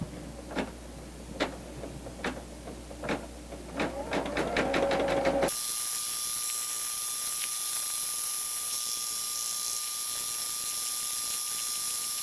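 An embroidery machine sews an applique at moderate speed, first a run of distinct rapid stitch clicks, then a steady whirring hum with a high whine, fairly quiet.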